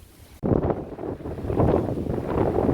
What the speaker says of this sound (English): It's very windy, but there it is, Port Shamley.